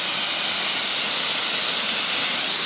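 A pressure washer sprays a hard, steady hiss of water, rinsing sea salt off the hull of a boat hauled out of the water, loud and close without pause.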